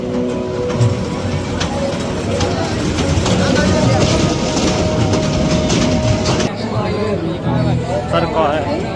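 A fair's train ride runs with rhythmic rail clatter and mechanical rumble, steady and fairly loud, amid crowd babble and people talking nearby.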